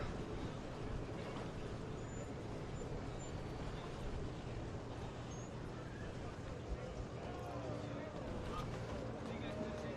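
A 42-foot Skater racing powerboat with twin 750 Sterling big-block engines runs at the Lake of the Ozarks, a continuous distant engine drone under steady announcer commentary.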